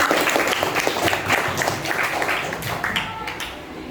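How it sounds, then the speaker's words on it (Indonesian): Pupils clap their hands together in a classroom during a lesson, a dense, steady round of applause that carries through and fades slightly toward the end. "Tepuk tangan dulu kita."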